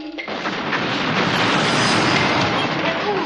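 A large explosion from the television action series Viper, season 2: a loud, dense roaring blast that fills the whole few seconds with broad rumbling noise and no pause.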